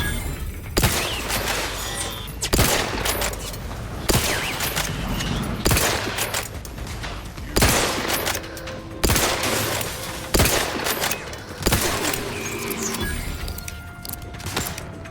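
Gunfire from a slow-reloading gun in The Outer Worlds 2, loud single shots and short bursts spaced about a second or two apart, each ringing out over a busy background.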